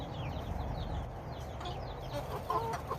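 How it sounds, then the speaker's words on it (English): Chickens by their backyard coop make soft, scattered clucks and a few brief calls, moderately close under a steady low background hum, with no one talking. "So this is right by my chicken's coop too."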